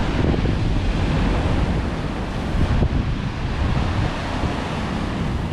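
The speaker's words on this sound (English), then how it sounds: "Just wanted to see if I could catch some decent waves." Sea waves surge and wash at the base of Tilly Whim Caves in Durlston Country Park, Dorset, a loud continuous roar of surf mixed with wind buffeting the microphone.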